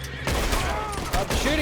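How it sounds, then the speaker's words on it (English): Rapid gunfire crackles in Red Dead Redemption 2, a close, loud burst of overlapping shots over a low rumble. "Stop shooting me!"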